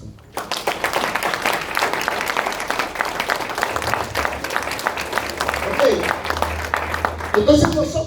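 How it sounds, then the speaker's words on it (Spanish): A congregation claps during an evangelistic training gathering, a lively stretch of dense, rhythmic handclaps that swells after a quiet start, with voices and cheers mixed in. "Denle un aplauso a Cristo."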